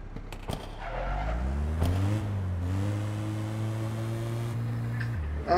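A car engine revs and climbs through gears in the online game APB Reloaded, rising whines alongside brief tire noise and a sharp crack, fairly close with no talk.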